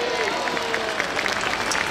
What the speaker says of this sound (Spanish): ¿No nos merecemos un aplauso?